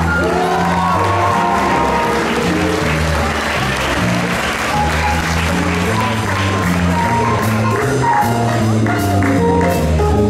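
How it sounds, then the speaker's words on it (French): Steady crowd applause with some cheers at a 2023 École Saint-Luc graduation ceremony, loud and continuous, with music playing beneath it throughout. "On les applaudit encore."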